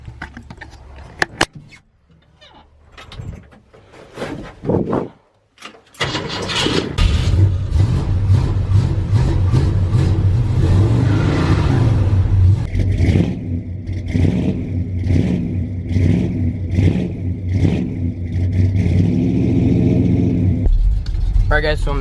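A 1974 Ford F100 Ranger XLT pickup with a 460 big block V8 cranks over after a few clicks and clanks, catches, then idles roughly and revs loudly in repeated bursts, close up.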